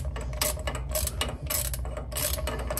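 A hand ratchet loosens a bolt on the differential of a 2020 GMC Sierra Denali HD during a fluid change, giving close, steady clicking bursts over a low hum, with no talking.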